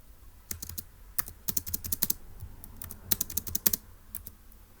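Quick bursts of crisp key clicks from a computer keyboard, tapped in short irregular clusters with brief pauses between, fairly close and alone without voices.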